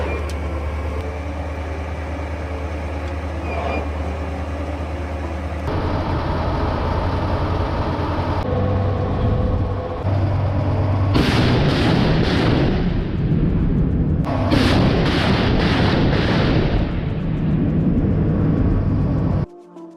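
Grad MLRS rocket artillery firing at a Russian position, a loud, sustained roaring barrage with abrupt bursts and cutoffs, layered over a steady low engine drone.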